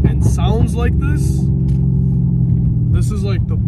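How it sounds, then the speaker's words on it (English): A 1000 HP PTG-tuned Mercedes C63s engine gives a steady, deep, loud rumble heard from inside the car, running under people talking excitedly. "you have a car that moves and sounds like this"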